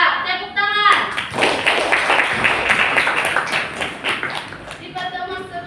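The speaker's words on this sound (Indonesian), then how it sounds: "Iya, tepuk tangan." Students in an eighth-grade mathematics classroom clap together, a dense burst of hand claps lasting several seconds, with voices speaking briefly before and after.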